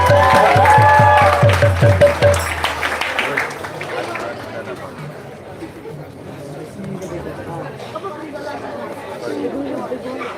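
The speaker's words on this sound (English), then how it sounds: "Give him a round of applause." Applause at a festival auction after a winning bid: a brief burst of clapping over music, fading within a few seconds into loud crowd chatter and murmuring.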